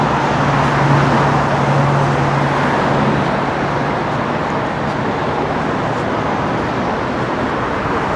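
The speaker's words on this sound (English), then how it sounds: "I feel like I'm shouting because the traffic's so loud." Loud, dense road traffic roars steadily near the Sydney Harbour Bridge, a constant close wash of engine and tyre noise with a faint hum running underneath.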